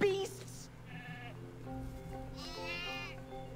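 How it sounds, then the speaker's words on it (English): Sheep in the Wii game Skylanders Spyro's Adventure bleat in short, clear calls over game music and effects, with people talking over them. "Honestly, Hugo, they're just sheep."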